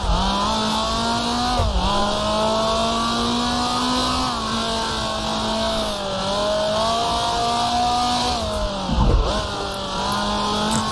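A 1966 Formula 2 race car in Grand Prix Legends, its engine holding a loud, steady, buzzing drone close by. The pitch dips on downshifts and then climbs again, with a few short rasps as the revs change.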